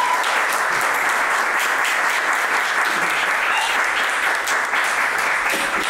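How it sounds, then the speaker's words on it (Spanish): A close, loud round of welcoming applause from a live audience at a Spanish-language talk event, thick and continuous clapping without a break. "darles un aplauso de bienvenida"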